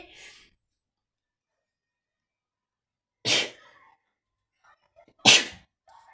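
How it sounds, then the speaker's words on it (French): Two sharp sneezes, a couple of seconds apart, each a sudden loud burst that quickly fades, with near silence in between. "je suis désolée, je vais éternuer"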